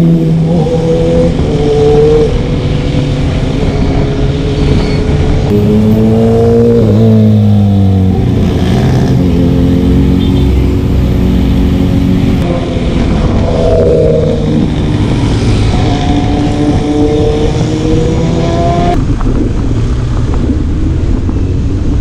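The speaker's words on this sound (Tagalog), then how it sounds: "Ayan na ang mga big bike patungo sa mga kurpadang kalsada ng Marilake." Big motorcycles ride along the curving Marilaque highway in the Philippines, with loud engines revving and shifting pitch as several bikes accelerate and pass, a continuous roar throughout with no talk.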